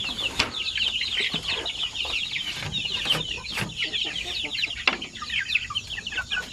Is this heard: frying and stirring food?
no